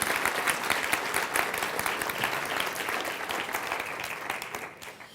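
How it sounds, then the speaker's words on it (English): A room full of people gives a round of applause, dense continuous clapping that holds steady and fades slightly near the end, loud and close. "give him a nice round of applause"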